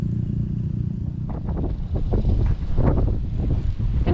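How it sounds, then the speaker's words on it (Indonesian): Strong wind roars and buffets the microphone outdoors at a fishing spot on an overcast late afternoon, a loud continuous rumble with gusts surging throughout, no talking. "cuacanya udah mendung ya, anginnya kencang banget"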